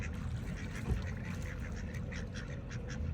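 Ducks and geese quacking and honking at a lake while being hand fed, a run of soft, repeated calls over steady outdoor background noise, a little distant and faint.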